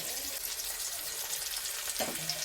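Chili powder frying in hot oil in a home kitchen, a steady close hiss and crackle throughout with a brief stir or scrape near the end.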